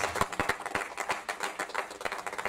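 A church congregation clapping along in a steady rhythm, a run of sharp, fairly even claps with no talking over them.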